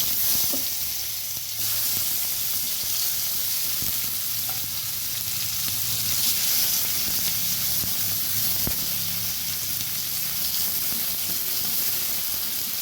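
Chopped onion frying in hot oil with sugar for a Bhola fish curry, a loud, continuous hiss and sizzle close up with a few faint clicks.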